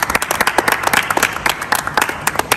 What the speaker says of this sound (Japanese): 拍手しましょう。